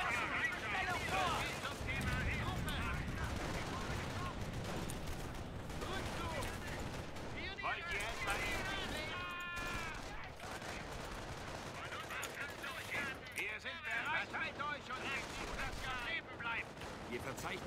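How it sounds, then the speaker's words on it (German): Light-weapon gunfire crackles in the WWII strategy game Company of Heroes on the Argentan Crossroads map, with scattered rifle and machine-gun bursts rattling at mid-distance while German unit voices speak over the battle. "Hey, Einheit wird mit leichten Waffen geschossen."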